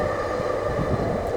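A SkyTrain rumbles past nearby on an urban elevated line, a brief low droning roar with a steady mechanical hum.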